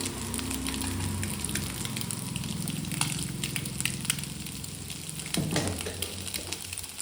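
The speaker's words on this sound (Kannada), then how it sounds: "ಇದಿಷ್ಟು ಹಾಕೊಂಡು ಎಣ್ಣೆಲಿ ಫ್ರೈ ಮಾಡ್ಕೋಬೇಕು ಮೊಟ್ಟೆನ" Eggs fry in hot oil with chili powder, giving a dense, continuous sizzle and crackle close by, with a brief clatter of stirring near the end.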